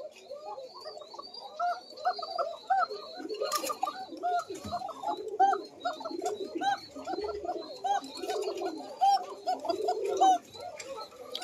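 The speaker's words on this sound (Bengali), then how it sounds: "এটা হচ্ছে চিকন ডাকের কবুতর।" Coca pigeons with a thin-voiced call cooing in a loft, a rapid series of close, rhythmic rolling coos from several birds overlapping, with high chirps behind and brief faint talk.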